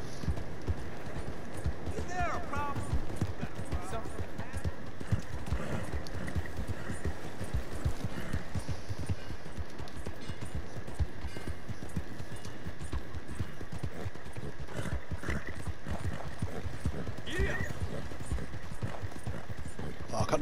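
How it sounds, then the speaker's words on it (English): Hooves clatter in a steady galloping rhythm throughout in Red Dead Redemption 2, close and continuous, with a voice talking intermittently over the pounding. "Get out of the way when you see a horse coming through."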